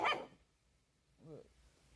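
A Chihuahua gives a short sharp bark up front, then a brief whining growl-like yip a second later, close and fairly faint in a quiet room.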